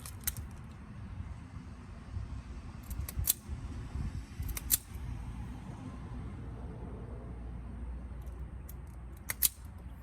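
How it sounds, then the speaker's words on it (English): Wire cutters snip the ends off truck step-light wiring on an F150-F250 for a butt splice, a few sharp isolated clicks spaced apart over quiet background rumble. "I'm gonna cut these ends out because I don't have those connectors."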